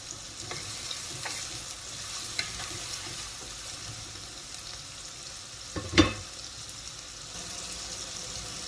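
Ginger garlic paste fries in hot oil for chickpea pulao, giving a steady, close sizzle. A few light stirring clicks sound over it, and one sharp knock against the pan stands out partway through. Nobody speaks.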